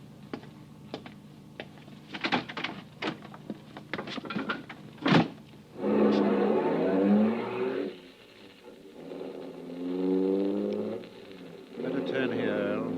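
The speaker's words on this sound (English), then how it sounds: "And then a car drove up." Car pulling up in an old radio drama sound effect, with clicks and a door-like thump followed by swelling engine rumbles that rise and fall, mixed with other effects.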